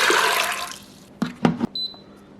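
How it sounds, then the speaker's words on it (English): Water from a container poured into a cooking pot of soaked white and black chickpeas, a broad splashing rush that tapers off, followed by a few short sloshes and clinks near the end. "And 2 cups of water."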